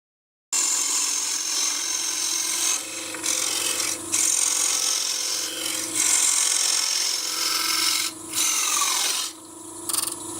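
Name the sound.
cutting wood frame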